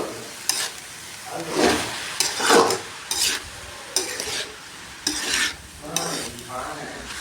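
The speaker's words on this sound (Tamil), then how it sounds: "தேங்காய் பூ போட்டால் கொஞ்சம் ஒரு 2 மினிட்ஸாவது நம்ம கிளறி விடணும்." Grated coconut is stirred into vegetable poriyal in a pan, with a soft sizzle beneath a series of scraping, rhythmic stirring strokes, roughly one per second.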